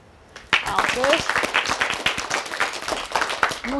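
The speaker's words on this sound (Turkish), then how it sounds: "Alkış." Audience applause at a children's holiday show, bursting in suddenly after a quiet moment, with loud rapid clapping from a small crowd alongside children's and adult voices.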